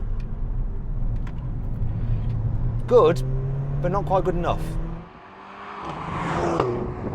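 An older Mercedes-AMG A45 driving, a steady engine drone with a brief dip in the noise, while someone talks over it.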